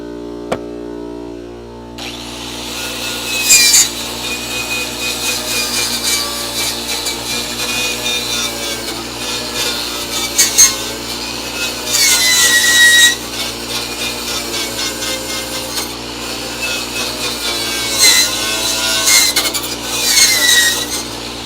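Stainless wire brush or tool scrubbing over seam sealer on a crew cab Coronet's passenger-side inner rocker, a steady loud rasping scrape in repeated strokes with no talk.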